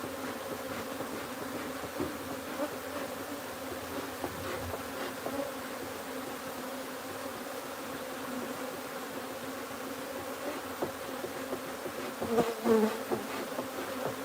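A wild colony of honey bees drones steadily around its hive during a transfer to a new home, a dense, continuous buzz close by with individual bees passing near at moments.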